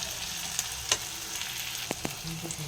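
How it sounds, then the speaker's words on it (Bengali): Onions and garlic frying in a pan on the stove, a steady soft sizzle with a few faint clinks and stirring scrapes near the end. "এবার এগুলোকে তুলে নিয়ে পেঁয়াজ ভাজবো।"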